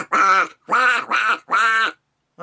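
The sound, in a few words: voice imitating Donald Duck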